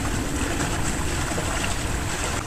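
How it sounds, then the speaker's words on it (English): Water rushes under a bridge in a continuous, broad roar that stays loud and even, with no voices heard. "That's just the water rushing under the bridge."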